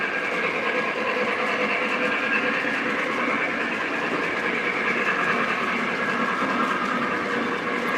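MTH-made Y3 model train locomotive running past on a layout, a steady close mechanical rattle and whir of wheels and gearing that holds even and continuous throughout, with no talk.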